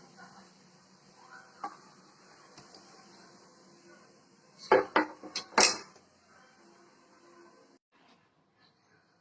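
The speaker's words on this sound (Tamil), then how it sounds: "ரெண்டு பக்கமும் நல்லா வெந்துருச்சு இந்த பிளேட்டுக்கு மாத்திரலாம்" Thavalai adai being shifted onto a plate produces a brief cluster of close metallic clinks and scrapes from utensil and plate, with near-silence around it.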